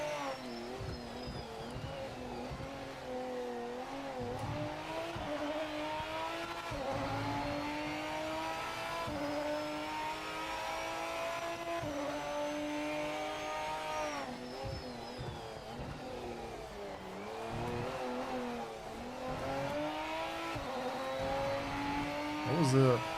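Race car engine in the racing game Project Motor Racing, revving up and down through gear changes over a lap, with someone talking over the fairly quiet, continuous drone.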